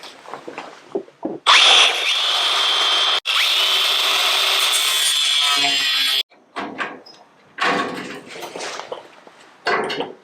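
Power tool cutting a Triumph GT front valance panel along marked lines, in two long continuous loud bursts of harsh grinding with short pauses, followed by shorter intermittent cuts toward the end.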